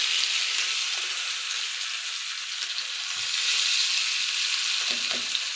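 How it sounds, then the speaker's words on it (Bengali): Tandoori-masala coated chicken fries on a hot tawa, giving a steady close sizzle with no break and a few soft stirring scrapes near the end. "এটা তাওয়া ফ্রাই চিকেন বলে। মশলা মাখিয়ে, তন্দুর মশলা মাখিয়ে"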